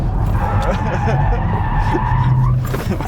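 Car skidding on cold tyres in a racing video game, a loud sustained tyre squeal over engine roar, with a second squeal near the end and voices talking over it.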